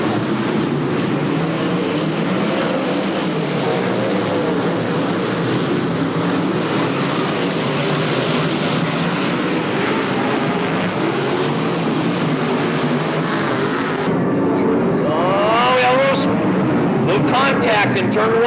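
Open 410 sprint cars race at the Black and White Classic in Tulare, California, their engines roaring in a dense, continuous wash of noise while a commentator talks throughout.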